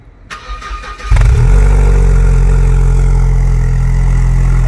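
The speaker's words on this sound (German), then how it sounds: "Ein Kaltstart lässt grüßen." A Mercedes SLK engine with an AMG exhaust cold-starts, cranking and firing up with a loud, deep exhaust roar, then settling into a steady, rumbling high idle.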